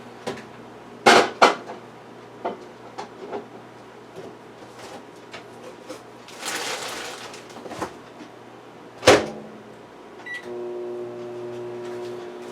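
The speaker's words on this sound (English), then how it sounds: "Let me put it in the microwave and melt it." Dishes clatter and a microwave door clunks, then a steady electric hum sets in near the end as the microwave starts running to melt butter.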